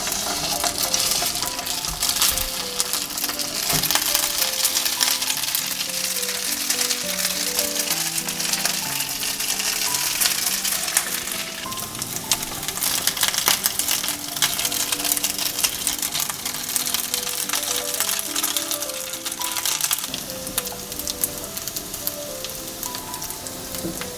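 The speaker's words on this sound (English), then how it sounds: "Can fry the rice bowl," A rice bowl frying in hot oil until crispy for a kung pao chicken dish: a steady, dense sizzle and crackle that runs without a break, close and fairly loud.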